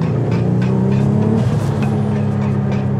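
A 1200 hp Volkswagen Golf engine revs loudly and steadily nearby, a deep rumble with a rising pitch sweep partway through, then settling back into a sustained drone with no talking.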